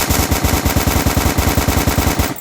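Rapid automatic fire from a UMP submachine gun in the shooter game Rogue Planet 2, loud and continuous, with evenly spaced shots rattling for about two seconds before cutting off.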